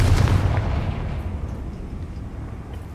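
Bombarda and Confringo explosion spells going off in the Hogwarts Legacy video game: a loud, deep booming blast that rumbles heavily at first, then slowly decays into a fading low roar with no voices.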